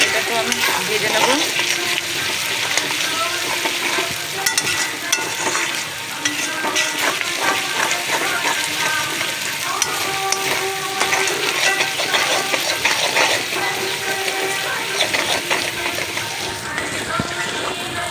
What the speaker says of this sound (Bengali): আদা বাটা দিয়ে দিলাম, নেড়ে নেব। এটাকে আমি ভেজে নেব।